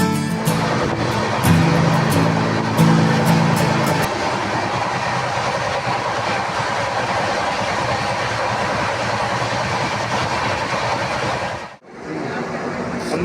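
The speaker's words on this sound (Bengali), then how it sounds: "এখন আমাদের ট্রেন নিউ ফারাক্কা জাংশন স্টেশনকে ছেড়ে দিল" The 12041 Shatabdi Express pulls out of New Farakka Junction: loud continuous rail rumble with rhythmic wheel clatter from inside the coach, briefly dipping near the end before resuming.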